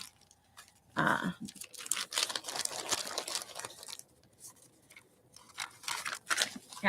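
Wet wax deli paper is crinkled and handled close up, irregular rustling bursts at moderate loudness with quieter pauses between, and no speech over it.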